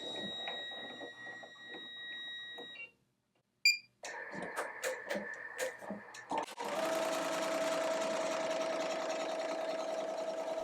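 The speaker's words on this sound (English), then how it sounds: "So here we are stitching out the design" Embroidery machine stitching out a design on a shirt, a fast steady mechanical whir and clatter with rapid needle rhythm, starting after beeps and a short pause, then running continuously and loud up close.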